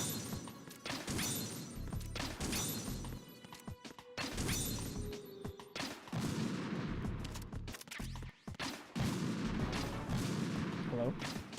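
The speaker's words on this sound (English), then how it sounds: "we have to use the grenade launcher" Repeated heavy blasts and crashing impacts from a grenade launcher in Metal Gear Solid 2, loud bursts scattered across a dense, noisy game soundscape with talk over the top.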